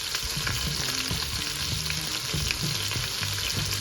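Oxtail browning in hot oil in an Instant Pot on saute, giving a steady, close, loud sizzle with soft scraping and turning noises throughout and no voices.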